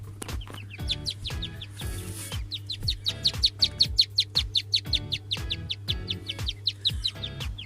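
Many small chicks cheep in rapid, overlapping high-pitched peeps, fairly close, crowded into corners under a thermostat-held 32°C brooder, with a steady low electrical hum running underneath.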